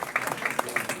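Brief applause from a comedy show audience, quick bursts of clapping with a few louder individual claps standing out, lasting about a second.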